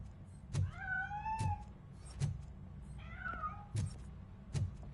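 A cat meows twice in the video game RoboCop: Rogue City, drawn-out and fairly close, between sharp clicking sounds and a low steady hum.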